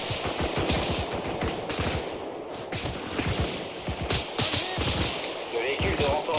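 Rapid gunfire in a firefight, dense bursts of automatic and single shots cracking continuously at close range, with voices talking underneath.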